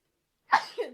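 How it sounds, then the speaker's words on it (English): A single sneeze bursts out close and fairly loud after a second of silence, with a sharp onset and a short trailing exhale. "Sorry, I had to sneeze."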